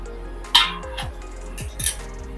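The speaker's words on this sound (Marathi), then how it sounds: "आता आपण झाकण उघडूया" A metal lid lifted off a pan of Maharashtrian-style ivy gourd vegetable cooking over a low flame, giving a sharp close clink and then lighter metallic knocks and scrapes, with no talking.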